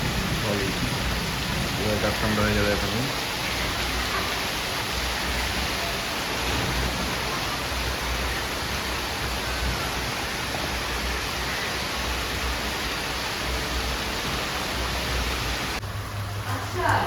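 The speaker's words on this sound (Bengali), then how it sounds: "অনেক বড় বড় ফোঁটা বৃষ্টি হচ্ছে" Heavy rain with big drops falls steadily outdoors, a dense continuous hiss that runs throughout, while a person talks briefly over it.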